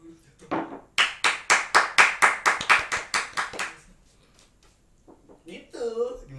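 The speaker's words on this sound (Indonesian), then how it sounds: "Tepuk tangan dong." Hand clapping in a podcast studio: about a dozen loud, close, evenly spaced claps in a brisk rhythm, then quiet and a few faint sounds before someone speaks at the end.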